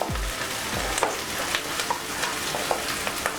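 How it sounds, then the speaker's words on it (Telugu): Capsicum pieces lightly frying in a pan for masala pulao, a steady close sizzle with faint stirring clicks and scrapes running throughout. "క్యాప్సికమ్ ఫ్రై చేసుకున్నాండి లైట్గా"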